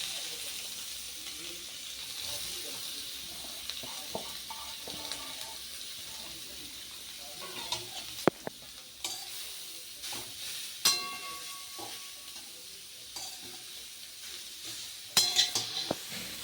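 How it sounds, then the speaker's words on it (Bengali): Grated carrot with bay leaves being stirred in a pan for carrot halwa, producing a soft continuous sizzle under scattered spoon scrapes and metallic clinks, with a few sharper knocks toward the end. "এটাকে ভালো করে একটু নাড়াচাড়া করে নিচ্ছি"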